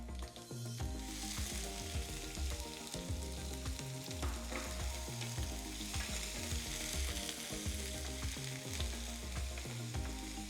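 Continuous crackling sizzle of onions frying in oil, with repeated rhythmic stirring scrapes throughout, close and fairly loud.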